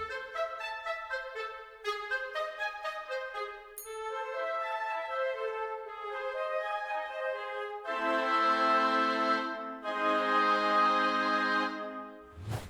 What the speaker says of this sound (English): we have the wind section, and they sound like this